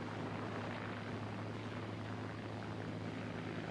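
A WWII propeller fighter plane takes off at full power, its engine a steady loud droning hum with a rough buzzing tone, continuous and unvaried, no voices.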